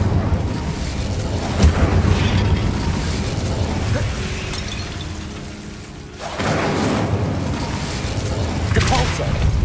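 Incendio fire spell bursts in Hogwarts Legacy in the Feldcroft Catacomb, several whooshing fiery pops over a rumbling game background, with one sharp burst early and a stronger flare after a brief lull.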